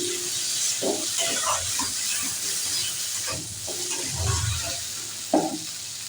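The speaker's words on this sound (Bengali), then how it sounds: "আলুগুলো একটু ভাজবো না" Cut potatoes frying in hot oil in a pan for a tilapia and cauliflower fish curry, giving a steady close sizzle with intermittent scraping stirs and soft knocks throughout.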